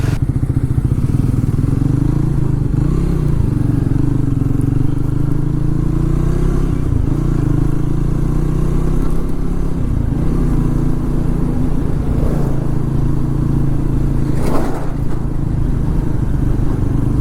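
A Triumph Tracker 400 motorcycle on a test ride after refuelling, its engine droning low and steady with a constant rumble and faint shifts in pitch, heard close and loud with wind noise and no talk.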